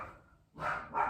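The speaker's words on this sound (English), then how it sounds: "don't mind my dog" A dog barks twice, the two loud, close barks coming about half a second apart, after a softer sound fades at the start.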